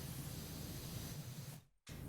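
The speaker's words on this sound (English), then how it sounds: "This place will never be dry with the amount of water that we're spraying." Pressure washer spraying water in the PowerWash Simulator video game, a dense, steady hiss that cuts out abruptly for a moment near the end before resuming.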